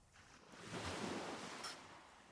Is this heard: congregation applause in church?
no